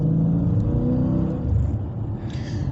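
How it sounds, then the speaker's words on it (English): A muscle car's engine and exhaust note rumble steadily from inside while driving on a rural road, a deep continuous drone with a slight swell midway and no talking. "You're getting that exhaust note."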